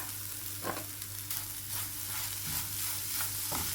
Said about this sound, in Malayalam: തേങ്ങയും പഞ്ചസാരയും പഴവും എല്ലാം കൂടെ മിക്സ് ചെയ്തിട്ട് ഒരു രണ്ട് മിനിറ്റ് നേരം